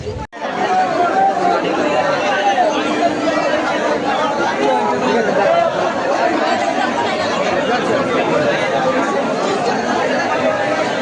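Dense crowd chatter and babble fill a packed train station on the Canning local line. Many voices overlap loudly and continuously from close by, after a brief silent start.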